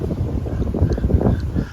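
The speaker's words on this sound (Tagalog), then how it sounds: "Oh, Mamma Mia, it's windy, guys." Strong wind buffeting the microphone at sea on a boat in Yas Bay, a steady low roar with gusty swells, loud and close, with no talk.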